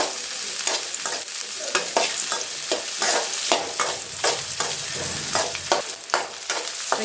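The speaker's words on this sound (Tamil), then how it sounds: "எண்ணெய் சூடானதும் வெங்காயம் சேர்த்துக்கோங்க. நல்லா வதக்கிடுவோம்." Onions sautéing in hot oil crackle and sizzle loudly and close up, with repeated rhythmic scrapes and clacks of a spatula stirring them.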